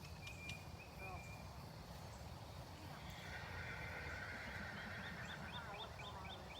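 A horse down the street neighs at a distance, a drawn-out whinny set against a steady chorus of crickets and insects in an outdoor riding field, faint rather than close, with some quiet talk nearby.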